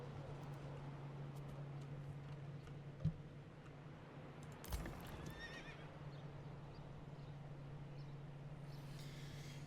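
Horses in the medieval city-building game Manor Lords give faint neighs and hoof clops over a quiet steady hum of game ambience, with one sharp click and a brief louder burst partway through.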